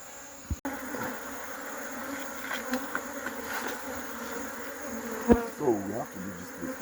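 Honeybees buzz in a dense, steady drone around an open beehive during a hive inspection in Nigeria, with a few sharp knocks and brief shuffling noises near the end.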